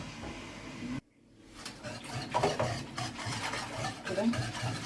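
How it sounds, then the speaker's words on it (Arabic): Milk, water and flour stirred cold in a cooking pot with a spoon, a steady scraping and swirling that starts after a brief near-silent gap and continues close and moderately loud. "وهقلب كله على البارد"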